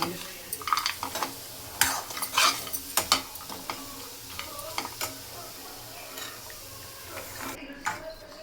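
Spicy chilli-coated peanuts stirred in a pan over a low flame, with irregular scraping strokes and sharp clinks of the spoon against the pan over a soft, steady sizzle, heard up close.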